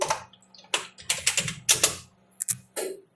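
Typing on a computer keyboard: quick bursts of crisp clicking keystrokes, close and alone, separated by short pauses.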